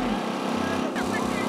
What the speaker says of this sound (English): There's a generator behind us